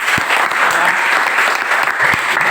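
Classroom students give a burst of applause, dense and loud, with many hands clapping close by and continuing steadily.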